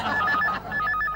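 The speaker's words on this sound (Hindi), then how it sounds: "फोन" A telephone rings in a domestic sitcom scene: two quick bursts of a bright trilling bell, close and loud.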